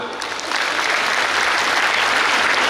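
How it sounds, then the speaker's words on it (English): Parents and well-wishers at a medical college graduation ceremony clap for the new doctors, a thick, continuous burst of applause that swells after a brief start and holds steady. "Now I request all the parents who are sitting here and the well-wishers to clap for them"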